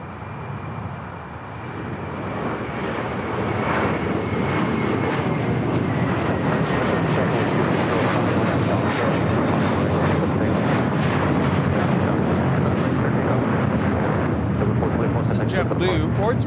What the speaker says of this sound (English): JetBlue 424 taking off to JFK on the A321.